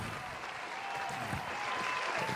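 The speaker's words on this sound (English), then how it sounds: "Round of applause." A studio crowd or podcast hosts break into applause, dense clapping that holds steady for a couple of seconds with a voice faintly underneath.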